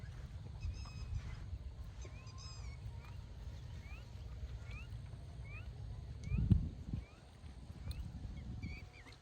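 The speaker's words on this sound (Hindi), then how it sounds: "अभी आवाज़ आ रही है वो कुकू की" Faint repeated calls of a cuckoo in an outdoor setting by a stream, distant rising chirps recurring every second or so over low wind and water rumble.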